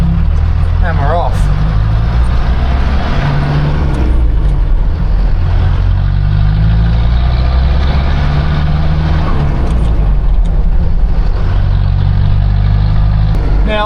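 A Land Rover Perentie diesel pulling away in first gear, a loud low engine drone that rises and falls as it moves off, with road noise throughout.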